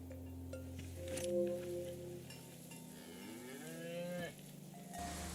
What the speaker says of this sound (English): Cow farm.